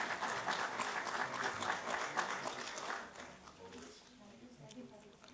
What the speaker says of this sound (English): Can we have a huge round of applause for our winners?